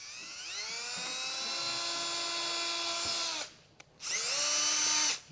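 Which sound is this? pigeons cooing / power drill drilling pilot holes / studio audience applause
power drill drilling pilot holes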